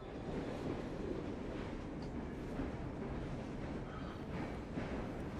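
Steady rumbling of a moving train in Assassin's Creed Syndicate, a continuous low rolling roar with faint rhythmic rail clatter running throughout at a moderate level.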